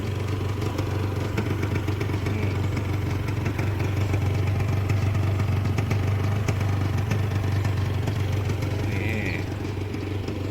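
A Serpico 150 SE motorcycle engine idles quietly nearby, a steady low hum with light mechanical clatter that holds even throughout with no revving.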